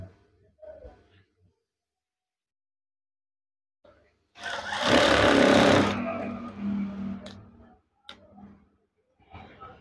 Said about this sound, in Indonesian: Kemudian jahit.